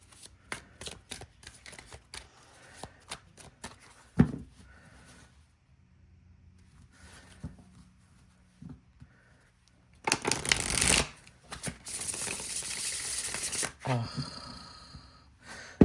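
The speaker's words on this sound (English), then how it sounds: "Let's give it a couple of shuffles." A tarot deck of thick cardstock is shuffled in several quick riffling bursts, crisp and close, separated by quiet pauses with faint breathing.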